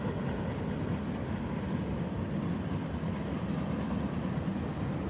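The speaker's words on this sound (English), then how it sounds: "Y'all can hear the train." A train passes at a distance, giving a steady, even rumble that holds for the whole stretch with no voices.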